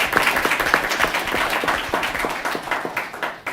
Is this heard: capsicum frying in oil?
no